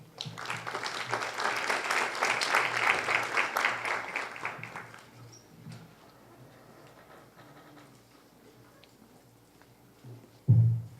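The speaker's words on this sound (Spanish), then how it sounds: "Aquí recibimos con un fuerte aplauso" Audience applause welcoming a speaker at a legal seminar on adolescent penal responsibility, a burst of clapping for about five seconds that fades away into quiet room tone, ending with a brief thump.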